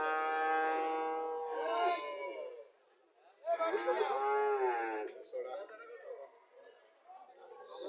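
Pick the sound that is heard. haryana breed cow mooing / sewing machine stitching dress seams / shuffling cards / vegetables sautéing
haryana breed cow mooing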